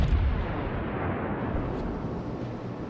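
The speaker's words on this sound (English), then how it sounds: "Concentrate fire on the enemy warship." Heavy naval gunfire from a warship in World of Warships, a dense continuous rumbling roar of cannon blasts with no talk over it.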